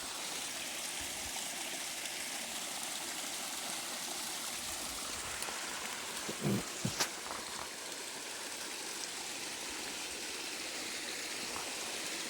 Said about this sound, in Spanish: El sonido del río.